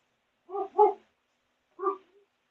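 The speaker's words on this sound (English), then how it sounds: "That's why my doggy is barking." A dog barks twice in quick succession, pauses, then lets out one more bark with a short trailing whine, close by and otherwise quiet.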